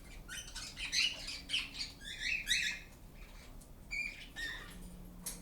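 Small birds, likely young chicks being crop fed, give high thin chirps and squeaky tweets in irregular bursts, fairly faint and close, with soft background noise and no talking.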